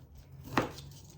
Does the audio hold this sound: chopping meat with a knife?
yes